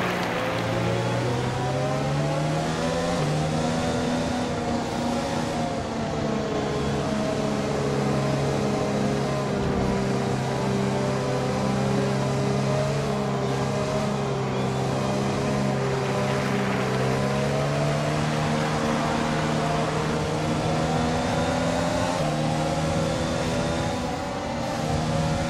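A Formula 1 race car engine in the F1 2020 video game at Japan's Suzuka circuit drones steadily and loudly throughout, its pitch gently rising and falling as the car is driven, with no talking.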